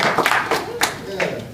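Comedy-show audience at a Unicef charity event in Utrecht clapping for a comedian, a brief scattered burst of hand claps rising and fading in short waves, fairly close and moderately loud.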